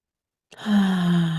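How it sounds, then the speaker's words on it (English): A slow, deep inhalation during a calm guided meditation, a single breath drawn in close and clear after a moment of silence, steady and sustained to the end. "And just taking another deep breath in"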